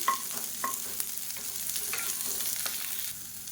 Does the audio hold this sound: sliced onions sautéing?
yes